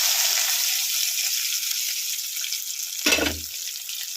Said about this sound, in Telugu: కరివేపాకు వేసాను కదా ఈ తాలింపు అయితే ఇందులో పోసేస్తున్నాను